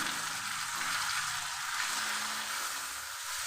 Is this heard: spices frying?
yes